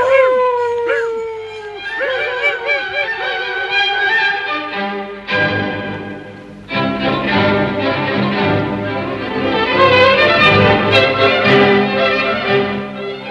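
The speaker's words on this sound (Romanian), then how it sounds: "În sunetul clopoțeilor și în lătratul câinilor, Stepan plecă la oraș." Dogs howl and yip in a radio drama, with long wavering howls that overlap and swell into a loud, dense chorus.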